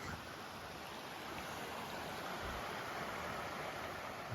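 Red Creek, a mountain stream in the Dolly Sods and Roaring Plains area, rushing in a steady, even wash of flowing water close by, with no voices.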